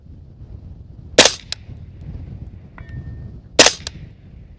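Two sharp rifle gunshots fired at night in windy conditions, spaced about two and a half seconds apart, each a loud crack followed by a short echo over a low rumble of wind.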